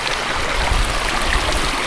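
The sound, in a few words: flowing mountain stream on Moel Famau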